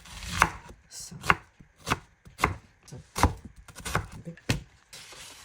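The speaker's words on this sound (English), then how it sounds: "For the spring onions, I separated the greens from the bulbs and diced them up" Knife dicing spring onions on a wooden board, about ten crisp, evenly spaced chops close up, each a sharp thud with a woody knock and nothing else around them.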